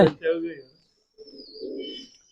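Soft pigeon cooing follows a brief burst of nearby voices, a low murmuring coo lasting about a second, at a pigeon loft in Faridkot, Punjab.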